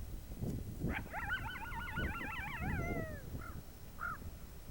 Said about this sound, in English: There's actually some other coyotes howling he's looking at in the distance.